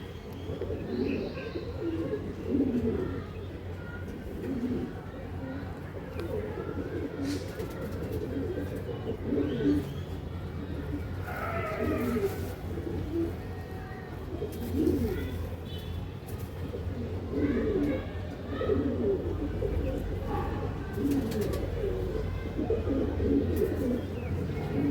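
Pigeons at a sale in Hooghly give soft, repeated coos and occasional chirps over a steady low background hum, moderately faint and spread across the whole stretch.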